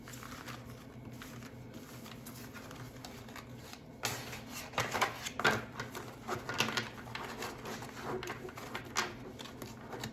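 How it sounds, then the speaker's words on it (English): Tarot cards get a poker-style shuffle: after a few quiet seconds, soft crisp riffling and flicking bursts come close to the mic in an otherwise hushed room. "And do like the poker shuffle."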